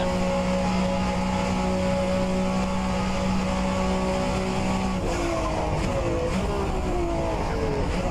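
Group C sportscars racing on the Daytona International Speedway road course, a Porsche among the leaders: loud sustained engine drone with tonal whine, shifting pitch midway as cars pass close by.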